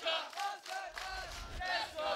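Crowd at a Tekken tournament, the 2022 TWT Masters, cheering and shouting in loud bursts that swell and fade over about two seconds, with no talk on top.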